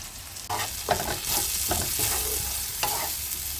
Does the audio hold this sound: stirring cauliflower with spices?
yes